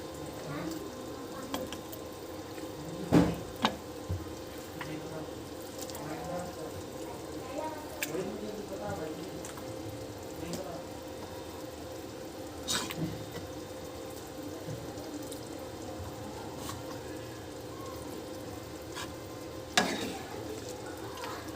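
Chicken fries in ghee in a dhaba-style karahi with a soft, low sizzle, broken by occasional sharp scrapes and knocks of stirring.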